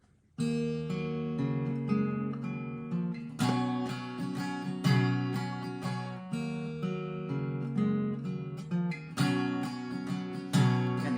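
An acoustic guitar strums the chord progression at a slowed pace, ringing full chords struck in a relaxed repeating pattern, clear and close with no voice.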